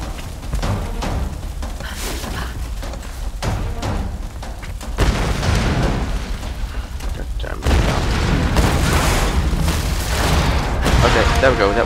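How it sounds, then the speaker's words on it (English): Gunfire in Tomb Raider, booming shots and bursts in irregular clusters, loud and close, over a rumbling battle din that grows heavier toward the end. "We're taking fire!"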